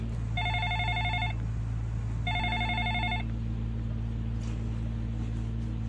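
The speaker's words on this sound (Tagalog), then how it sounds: "Teka, abot mo nga Sonia yung cellphone ko." A cellphone rings indoors at home in two repeated electronic bursts about a second long, close and clear, over a steady low hum with no talking.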